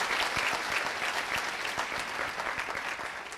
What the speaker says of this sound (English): How about a round of applause for my fellow speaker?